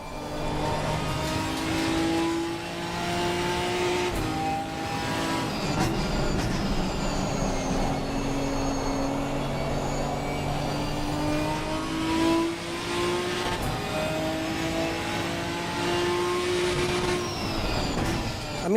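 A race car engine in the Assetto Corsa racing game revs and shifts through gears, its droning tone rising and falling repeatedly over steady road and tyre noise, loud and close with no talk.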